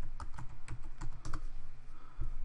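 Someone types on a computer keyboard in a short burst of close, soft key clicks, uneven at first and then briefly pausing before one last tap, with no voices.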